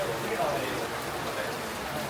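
Steady rain falls in Canggu, Bali, a continuous hiss of drops on surfaces that stays at an even level throughout, with a faint voice in the background.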